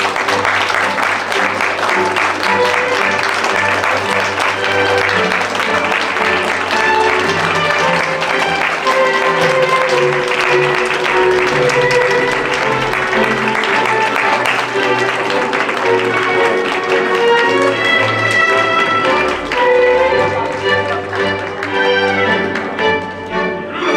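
Applause from wedding guests as the mothers of the bride and groom enter a convention-hall ceremony, a steady clapping wash that runs continuously beneath loud processional music.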